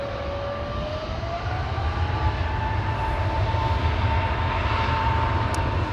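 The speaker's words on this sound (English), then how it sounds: "Dreamliner in the background." A Boeing 787 Dreamliner at Amsterdam Schiphol Airport gives a steady background jet drone with a faint rising engine whine, continuous and moderately distant.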